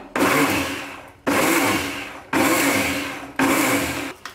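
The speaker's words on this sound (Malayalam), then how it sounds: "ഇനി ഇത് ഒന്നും കൂടി വിപ്പ് ചെയ്തെടുക്കാം." A mixie grinder whips oil into mayonnaise in four loud, close bursts, each starting abruptly and winding down before the next pulse, with no speech.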